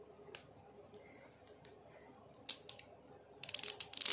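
A zipper on a LOL Surprise toy package is pulled open: after quiet rustling come a few short close rasps, then a quick run of louder zipping bursts at the end.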